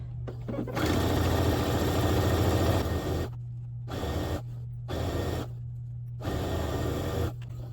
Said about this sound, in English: I'm just going to be using my Presto Baby Lock machine